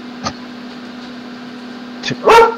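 A man imitates a dog's bark with a few short woofs: one near the start, then a quick pair near the end, the last one loudest, over a steady low electrical hum.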